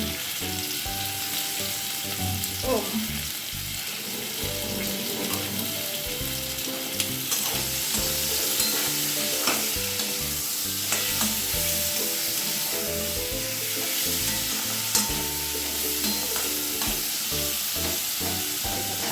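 Chopped tomato with salt sizzles steadily in a pan for a Bengali rui fish curry with potato and pointed gourd, a continuous frying hiss with occasional stirring, and steady music playing underneath.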